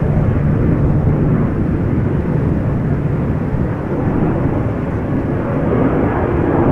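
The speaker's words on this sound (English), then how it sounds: "a Transavia 737 has just taken off from center" A Transavia Boeing 737 climbs out after takeoff at Amsterdam Schiphol, a dense, continuous low jet roar at steady loudness with no voices.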